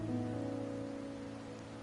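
Steady rain falls in a Wuthering Waves game scene on a rainy night, a continuous soft hiss with low tonal ambience underneath and no talking.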